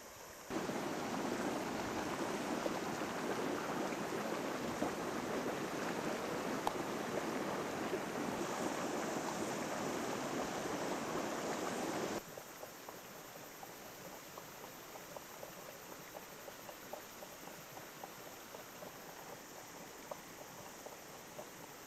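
Hot stream water flowing at Waimangu, a steady broadband rush with some wind, louder at first and then quieter and softer after a sudden drop midway.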